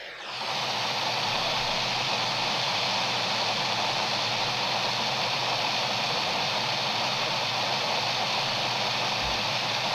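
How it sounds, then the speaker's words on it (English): Steady high-speed electric fan noise from a phone app, a dense, even whooshing hiss that starts abruptly and holds constant and fairly loud, with no talking. "It's fan number 5, rotation speed high, and the volume like a couple of notches below high."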